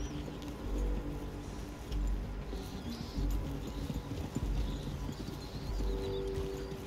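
Horse hooves clip-clop steadily at a walking pace in the Red Dead video game, with soft bird coos in the open-air background and no speech.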